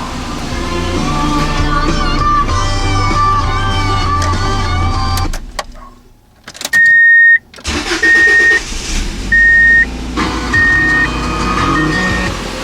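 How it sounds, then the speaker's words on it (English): A Subaru engine, just back from a fuel pump repair, cranks briefly and fires up, then settles into a steady idle close by, with electronic warning chimes beeping at intervals. "Car starts right up. Seems to start a lot easier."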